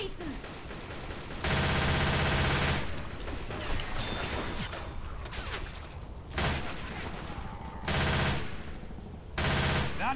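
Sustained automatic gunfire in the zombie shooter game Left 4 Dead 2, coming in loud rapid bursts that alternate with quieter stretches of scattered shots, with players talking in German.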